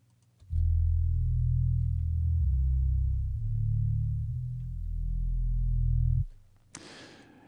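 A mono electronic sub-bass line with everything above 150 Hz cut plays deep, smooth sustained notes that shift pitch across about six seconds, then stops abruptly, followed by a short burst of noise.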